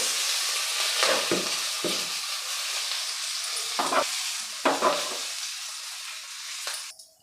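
Mustard seeds, asafoetida and curry leaves sizzle in hot tempering oil for idli sambar, giving a continuous hiss broken by a few sharp stirring scrapes and crackles before the sizzle fades.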